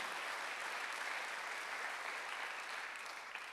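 A church congregation applauds during a Sunday worship service, dense steady clapping from many hands that fills the whole stretch at an even level.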